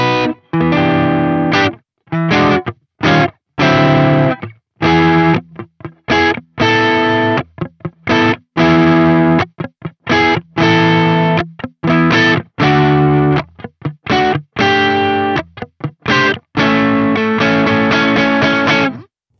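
An electric guitar runs through an overdrive pedal into a Soldano SLO-100X amp, playing loud, distorted chords and riffs in choppy bursts separated by brief stops.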